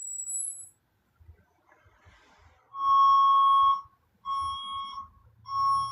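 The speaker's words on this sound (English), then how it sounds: "It's a loud beeping sound of a truck trying to park outside of my house" Three loud electronic beeps sound one after another with short gaps, over a quiet low rumble: a truck's warning signal as it parks outside a house.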